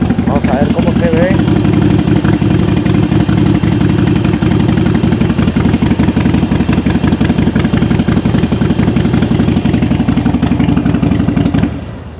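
A Harley-Davidson motorcycle engine fitted with Vance & Hines mufflers idles close by, a loud, steady, deep rumble that holds for about twelve seconds before easing off at the end.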